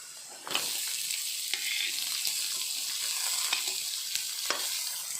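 Onion frying with garlic, ginger and green chillies in a pan for bread masala gives a steady, close, loud sizzle, broken by occasional sharp stirring clicks and scrapes.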